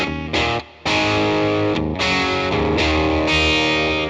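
Distorted electric guitar chords strummed loudly through a NUX Solid Studio Mk II amp modeller, with brief pauses between phrases and a thick, saturated amp tone.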